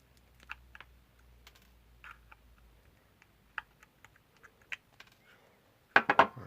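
Small wire cutters snip excess coil wire on a vaping dripper atomizer, a series of sparse, sharp little clicks, with a louder cluster of snips at the end.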